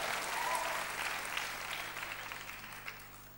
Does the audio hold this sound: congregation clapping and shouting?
yes